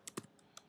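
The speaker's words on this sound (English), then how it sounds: "typing is not happening today" Typing on a computer keyboard, a few faint, close key clicks in an uneven cluster of about four or five taps, quiet and alone without talk.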